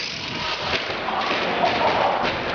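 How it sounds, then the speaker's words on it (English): A Redcat Caldera SC10 electric short course RC truck comes down a ramp at a speedway and lands with a dull thud within a broad rumble of motor and outdoor noise, fairly loud and close. "Come on, Dave, give it down the ramp"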